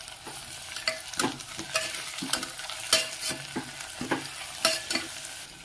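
Spiced curry with salt and chili powder sizzles in a pan while a spoon stirs it, a steady frying hiss broken by repeated scraping strokes about once a second, close and clear.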